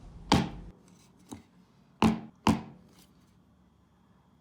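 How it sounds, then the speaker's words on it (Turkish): Cake batter in a pan or tray being rapped hard against the floor, about four sharp knocks with gaps between them, close and loud, and no voices. "birkaç kere sert bir şekilde yere vurduralım ki içindeki hava kabarcıkları çıksın"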